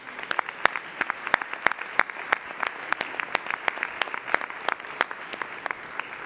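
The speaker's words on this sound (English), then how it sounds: "let's give it just a round of applause for everybody who made this stuff happen" Audience applause at a 2022 awards ceremony, a sparse room of clapping hands with distinct individual claps scattered densely over a soft background, moderate in level and steady throughout.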